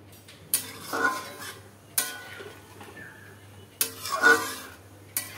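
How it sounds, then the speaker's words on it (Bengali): A spatula stirs salt into jackfruit curry (echor kalia) in a pan, making several distinct scraping, clanking bursts of metal on metal separated by quieter pauses. "লবণটা খুন্তি দিয়ে এটাকে ভালো করে মিশিয়ে নিলাম।"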